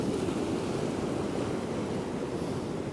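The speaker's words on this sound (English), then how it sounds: "Let's have a zoom in on some of these big waves." Big ocean waves roll and break below windy cliffs at Happisburgh on the coast, a steady broadband roar of surf heard from high above with wind buffeting throughout.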